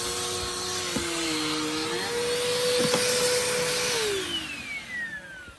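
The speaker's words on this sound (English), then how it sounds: "I just want to show y'all what that house vac can do." Household vacuum cleaner running close and loud while cleaning the floor mats of a 2020 Nissan Altima, a steady whine whose pitch shifts and drops as the suction changes, ending as it winds down.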